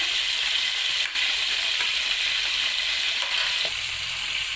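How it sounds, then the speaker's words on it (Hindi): Chicken fries with salt and ginger garlic paste in a karahi for a badami white chicken dish, giving a loud, dense, continuous sizzle that runs steadily on its own throughout. "चिकन हमारा फ्राई हो रहा है"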